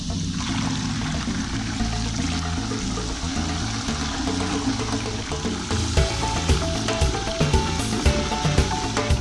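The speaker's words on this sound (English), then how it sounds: "It's a shower." A shower in a house under construction in the Philippines runs steadily, a loud, continuous hiss of spraying water that carries on unbroken and with no speech.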